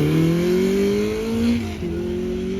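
Hypercar driving past at Horsepower Hill during a concours event, a loud high-revving engine note sweeping in pitch as it passes close by, with a brief shift before settling into a steady roar.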